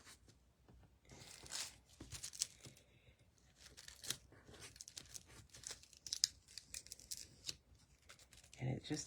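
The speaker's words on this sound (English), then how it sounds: "I'm actually going to use a little bit of sticky tape on the back side of these because these are going to be lying flat" Sticky tape being pulled and torn off for the back of a paper craft card: several short crackling rips and rustles of paper, close and soft, with a person talking over them.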